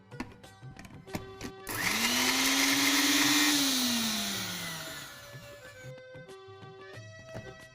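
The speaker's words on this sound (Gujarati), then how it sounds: "ત્યારબાદ આપણે એને મિક્સરમાં ગ્રાઇન્ડ કરી લઈશું." A kitchen mixer grinder crushes raw amla with salt and black salt powder, whirring loud and close for about four seconds as the motor pitch rises and then winds down, with clattering of the jar before and after.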